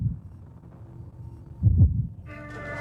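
A heartbeat sound effect thumps low and muffled in a short pulsing pattern, a stronger throb near the end before a brighter tone cuts in.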